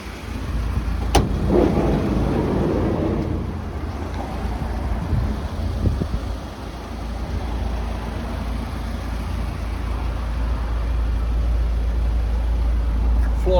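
A Ford Transit 350 TDCi 100 MWB high-roof van idles with a steady low diesel rumble, fairly close, alongside a few brief knocks and faint background sounds.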